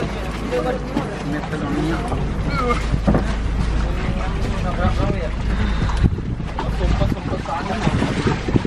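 A ferry motors across rough open sea between Koh Lipe and Langkawi, with steady wind buffeting and engine rumble filling the scene continuously; voices murmur underneath.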